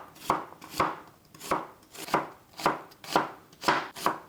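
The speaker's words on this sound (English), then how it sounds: "I started with chopping or slicing our onion" A knife chops through an onion on a cutting board in about eight evenly spaced, crisp strikes, close and alone.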